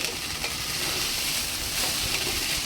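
Soaked basmati rice frying in a pan for pulao gives off a steady, close hiss of sizzling with soft stirring scrapes, and nobody speaks.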